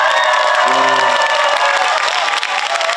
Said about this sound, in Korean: 환영의 힘찬 박수 한번 부탁드립니다